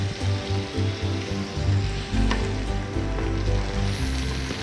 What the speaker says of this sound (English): And stir fry to cook